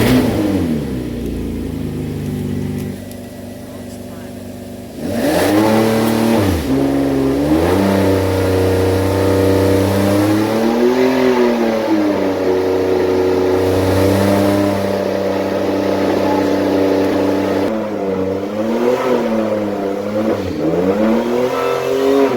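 A Ferrari 599GTB engine is revved to about 4,500 RPM, loud and close, with a lower idle before climbing to a sustained high-pitched roar that dips and rises in several waves.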